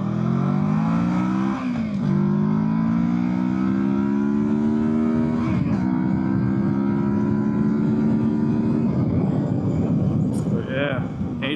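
A 2024 Kawasaki Versys 650 twin's engine climbs steadily through the revs while riding, with brief dips at the gear changes, as a rider talks over the drone.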